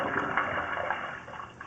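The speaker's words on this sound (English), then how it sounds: "Somebody just flushed the toilet." Rushing, gurgling water from a toilet flush, heard through a 4-inch ABS sewer cleanout on a house's front porch during a sewer line inspection; a steady, moderately loud wash that fades slightly near the end.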